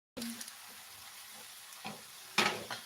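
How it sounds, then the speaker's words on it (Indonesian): Food sizzles steadily in a frying pan while a utensil stirs it, with a few soft scraping knocks and a sharper clatter near the end, fairly quiet and without talking. "Saya aduk-aduk dulu nih."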